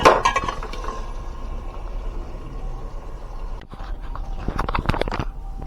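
A spoon stirs and scrapes chicken handi in a metal cooking pot, giving close clinks and scrapes at the start and again near the end, with quieter stirring in between and no talk.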